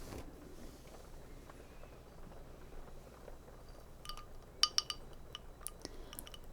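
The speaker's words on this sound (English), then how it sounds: "I have a very cold glass of water just for you, okay? I'm gonna set it right on your nightstand" A very cold glass of water is set down on a nightstand, with a few faint clinks and light taps near the end against a quiet, hushed background.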